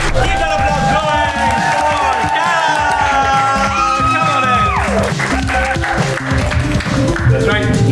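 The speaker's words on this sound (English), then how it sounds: "Keep that applause going" A studio audience applauds and cheers at a comedy podcast taping, sustained and loud, with music playing over the crowd noise.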